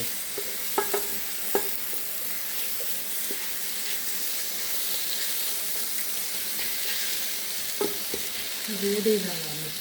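Tomatoes fry in masala in a pan, giving a soft continuous sizzle broken by a few sharp clinks and scrapes of stirring.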